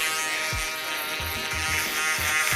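An electric shaver hums with a steady, bright buzz as it passes over a client's head during a barber's head shave. A few soft low thumps come from the shaver moving against the scalp.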